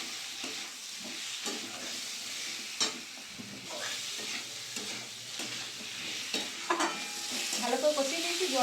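Potato and kohlrabi chunks are stirred in a hot spice mix in a pan, giving a steady sizzle with repeated scraping stir strokes that grow busier near the end. No one speaks.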